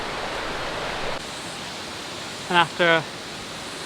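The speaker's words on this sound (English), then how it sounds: "we have a waterfall, which is not bad at all." A waterfall near Whangārei, New Zealand, heard as a steady, hissing rush of falling water that fills the whole stretch, with a brief spoken phrase over it near the end.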